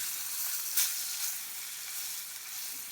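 Steady, close sizzle of pork chops pan frying, the hiss continuous and bright with a couple of brief sharper crackles as the meat is turned onto its fatty edge with metal tongs.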